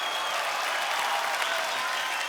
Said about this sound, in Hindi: ये तालियां जैकी जी के लिए बजाइए